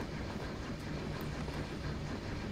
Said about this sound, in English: Oh, look at that steam train.